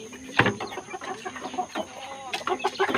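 A Belgian Asil stag rooster clucks repeatedly at close range, short uneven calls over soft farmyard background.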